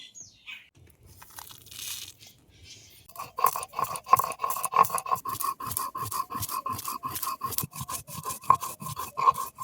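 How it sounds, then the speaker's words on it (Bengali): Roasted whole coriander and cumin seeds ground into a paste, a steady run of rhythmic rasping, crunching strokes that begins after a quiet stretch and continues close and fairly loud to the end. "এখন বেটে নেব"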